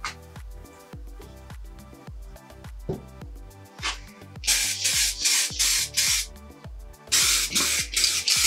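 Spray paint laid on thick over automotive air intake pipes, a few short hissing bursts and then long loud sprays in pulses, with background music underneath.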